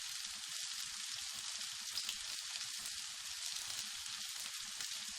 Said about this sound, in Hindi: 2 चम्मच तेल और डालते हैं क्योंकि बैंगन में तेल ज़्यादा ज़रूरत पड़ती है।